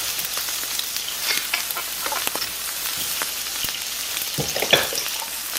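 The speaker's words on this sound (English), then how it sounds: "that sizzle in the background of Brian's grill" Meat sizzling on a backyard grill, played as a sound effect: a continuous bright crackling hiss with scattered sharper pops, steady and fairly close, with no voices over it.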